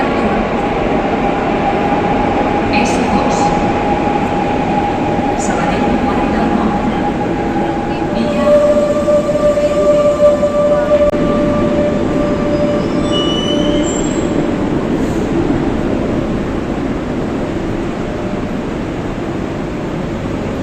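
A Barcelona metro train runs with a loud, steady rumble, its wheels squealing in sustained high tones that swell through the middle of the run.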